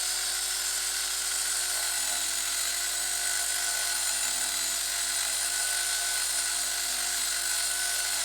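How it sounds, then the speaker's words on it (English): Proxxon rotary tool running with a rasp cutter bit, a steady high-pitched motor whine with a low hum beneath, loud and constant throughout with no speech. "So I'm going to do it up against this Proxxon rasp."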